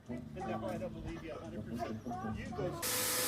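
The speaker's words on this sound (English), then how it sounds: "He just turned on the snow machine." A snow machine on a Christmas Vacation themed holiday display house in Los Angeles switches on near the end, a steady loud hiss rising abruptly after someone talks over outdoor background noise.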